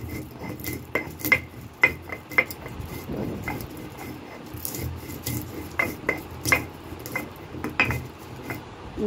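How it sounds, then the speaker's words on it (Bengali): Spices are ground on a grinding stone, with repeated rough scraping and rubbing strokes in an uneven rhythm, close by. "এবার শিলে একটু গুঁড়ো করে নিচ্ছি, গুঁড়ো করে রেখে দেবো"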